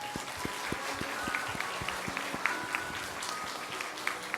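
Applause during a Sunday church service appointment ceremony, a congregation clapping in a steady, fairly faint patter with some sharper nearby claps.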